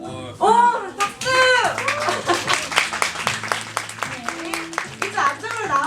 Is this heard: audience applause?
yes